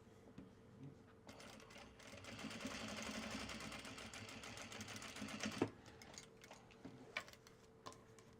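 A domestic sewing machine stitches Japanese fabric for bags, whirring in a steady fast run that swells and then stops abruptly, followed by scattered clicks and small handling taps.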